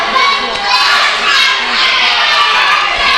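A crowd roars through a live British wrestling bout between two wrestlers. Loud, continuous cheering fills the hall, with shrill shouts and voices mixed into the dense noise.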